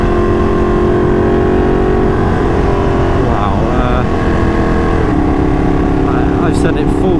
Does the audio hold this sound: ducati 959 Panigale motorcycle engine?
yes